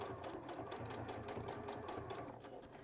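A sewing machine top-stitches near the edge of a clasp purse handle through two layers of fabric, two layers of wadding and a canvas lining, running in a steady, fast, rhythmic needle chatter throughout, close and alone.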